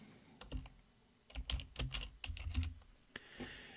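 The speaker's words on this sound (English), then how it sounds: "I'll go ahead and just type IC 434 up here." Typing on a computer keyboard while entering a search into planetarium software, a run of crisp, irregular key clicks at close range with short pauses between bursts, no talking.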